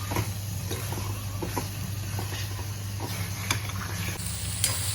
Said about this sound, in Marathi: ह्या मसाल्यात आधी कलेजी मस्त भुरून घ्यायची